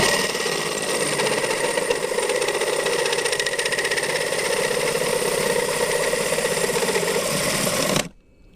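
A drill cuts through a metal plate with a loud, continuous, rattling grind close by, holding steady for about eight seconds before stopping abruptly.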